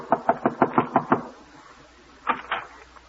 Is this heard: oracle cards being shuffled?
no